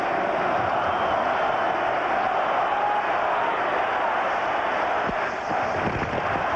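A crowd roars in a hockey arena during a 1993 playoff game between Toronto and Detroit, a dense steady wash of cheering with a few sharp knocks near the end.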